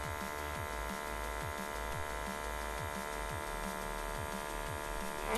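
A pore vacuum cleaner runs steadily against facial skin, giving a constant close electric hum and buzz with faint rhythmic pulsing as it sucks at whiteheads, with no talking.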